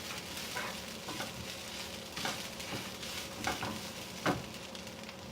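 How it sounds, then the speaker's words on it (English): Grated coconut fries in a pan for a Kerala-style varutharacha chicken curry, giving a steady close sizzle with a few louder scraping stirs. "now we are going to fry the coconut until it turns light brown in color"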